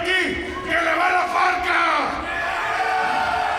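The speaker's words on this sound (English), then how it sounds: "The chants of Parka resounding throughout the hallowed halls of the Majestic Theater" A wrestling crowd at the Majestic Theater in Detroit chants and yells for the masked luchador La Parka, a loud, dense roar of many voices rising in rhythmic bursts.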